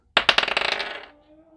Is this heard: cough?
no